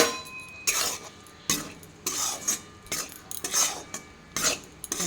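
Gram flour being stirred into melted ghee in a pan over low heat for besan modak, a spoon scraping and clinking against the metal in uneven bursts, close and alone.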